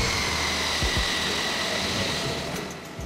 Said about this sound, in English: Jet fighter, high-speed military aircraft designed for air-to-air combat and ground attack missions.